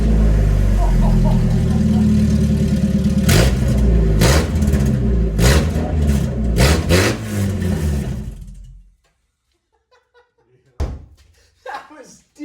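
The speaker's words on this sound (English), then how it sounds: "we get an exhaust clip of this" A Mazda Miata with a newly installed exhaust revs hard several times, deep rumbling blips rising and falling over a steady idle, then the engine cuts off and brief voices and a thunk follow.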